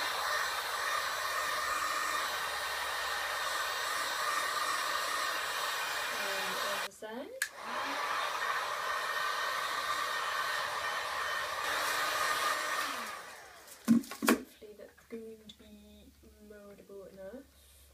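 A heat gun blows steadily on a Worbla thermoplastic sheet as armour pieces are shaped, a loud continuous hiss that stops briefly midway and cuts out near the end.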